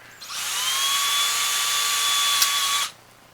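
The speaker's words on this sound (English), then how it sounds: "And then you can go ahead and drill the rest as normal." A power drill whines steadily for about three seconds while boring into a SnapBow spring rest, close and loud with a clean start and stop.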